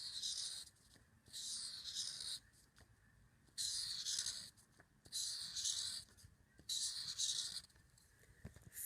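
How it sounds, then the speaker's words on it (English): Marker or pencil drawing circles on paper, with repeated scratchy strokes in separate bursts of about a second each, separated by brief pauses. Five circles are drawn in a close, quiet setting. "So I will draw 5 circles."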